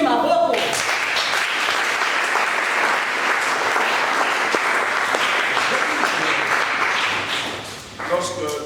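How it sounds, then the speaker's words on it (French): A church congregation bursts into loud, sustained applause that carries on for about seven seconds before tapering off, with a voice speaking at the start and again at the end. "Acclamons le Seigneur. Tobeti maboko."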